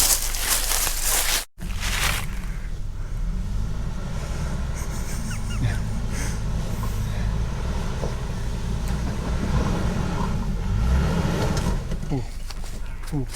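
An off-road vehicle getting stuck on a technical trail makes a low, steady engine rumble close by, with a brief dropout early on and faint voices in the background.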